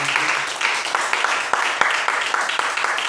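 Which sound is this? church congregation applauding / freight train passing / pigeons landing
church congregation applauding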